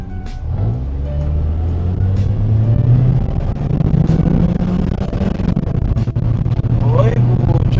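A 1994 Honda Accord engine pulls in first gear, its hum climbing in pitch as the car speeds up and then holding a steady drone. People talk over the engine the whole time.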